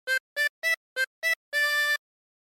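Harmonica playing the opening phrase of Yankee Doodle: five short, evenly spaced reedy notes followed by one longer held note, close and clear, with no talking.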